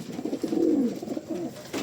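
Pigeons coo repeatedly in low, throaty pulses while feeding near their loft, the soft calls continuous and close with brief gaps.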